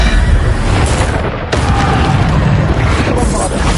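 Bombarda explosion spell in Hogwarts Legacy: loud booming blasts with crackling debris, a sharp impact around the middle followed by continued rumbling and another hit near the end, thick with layered game effects.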